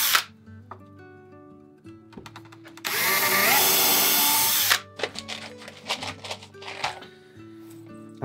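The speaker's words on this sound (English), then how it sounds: "for a pilot drill here is actually just a finishing nail that's been ground to a triangular drill point" A power drill fitted with a finishing nail ground to a triangular point bores pilot holes in boat floorboards, a loud steady whir of about two seconds amid close tool handling and tapping before and after.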